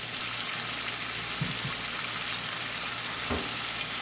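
Sauces for paneer Manchurian fry in a pan with a steady, close hiss and sizzle, faint low knocks now and then under the continuous crackle.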